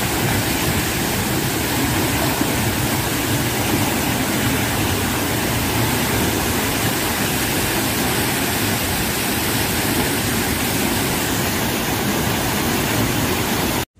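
Roaring waterfalls at Courtallam in Tenkasi, a dense, unbroken roar of heavy falling water that stays loud and steady throughout with no voices.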